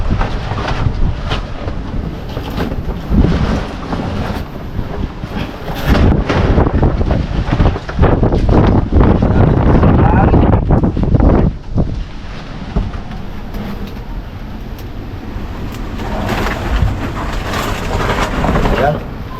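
Strong wind roars and buffets the microphone in loud, surging gusts, with a voice speaking now and then beneath the rush.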